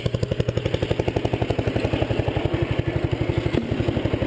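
A 1975 Sears Suburban ST16 lawn tractor engine idles close by with a steady, even chugging pulse and a faint metallic clatter throughout.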